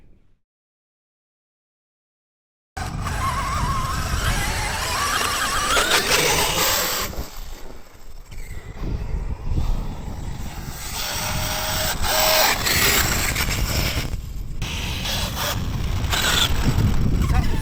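A Traxxas XMaxx RC truck with damaged gears running on sand dunes, its electric drivetrain whining and squealing loudly and continuously after a short silent start, with brief dips and grinding rises in intensity.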